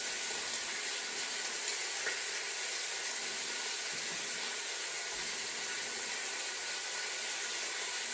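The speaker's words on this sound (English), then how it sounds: "Sizzle." Pork al pastor sizzles steadily in a hot pan, a constant bright hiss with no breaks, close and fairly loud, alone without talk.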